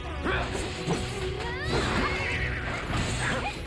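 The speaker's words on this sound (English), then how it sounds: "It's a good thing he has his horse." In Final Fantasy 7 Rebirth, a horse gives a drawn-out, wavering whinny amid clattering, crashing game sounds, with a few shorter snorts and cries before and after.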